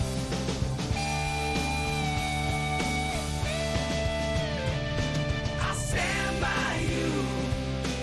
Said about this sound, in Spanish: es una canción de amor entre un panda y un tigre a ritmos del rock y